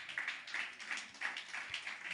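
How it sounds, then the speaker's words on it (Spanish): A church congregation claps together in a loose, rhythmic pattern of repeated bursts, moderately loud and filling the room, with no voices over it. "Denle un aplauso a Dios."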